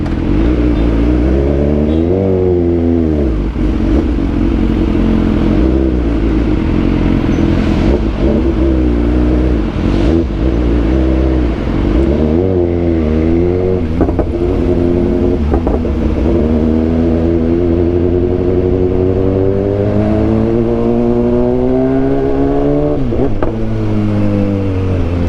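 A BMW S1000XR motorcycle engine revs loudly while being ridden, pitch climbing and dropping through repeated quick-shift upshifts and downshifts, continuous and close for the whole stretch.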